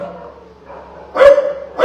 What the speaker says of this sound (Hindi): इसलिए मेरा कुत्ता भी भौंक रहा है मेरे ऊपर